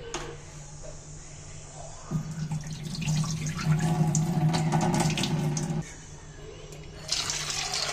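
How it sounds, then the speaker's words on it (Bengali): Tap water runs into a bowl as sago pearls are rinsed for a temple-style recipe, a rushing stream swelling in the middle, then easing to a thinner trickle and dribble as the washing water is poured off. "এটা আমি ভালো করে প্রথম থেকে এই ভালো করে ধুয়ে জলটা ফেলে দিচ্ছি"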